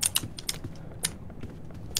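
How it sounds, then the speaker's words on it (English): Rapid, uneven computer keyboard typing with bright clicky keystrokes in bursts, close and fairly loud over a low room background. "why are you typing in chat?"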